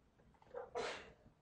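A single quiet person's sneeze, a short soft intake followed by a brief breathy burst, faint against a still indoor background.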